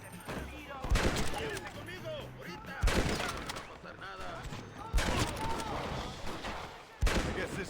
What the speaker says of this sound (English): Bolt action rifle? Is this any good?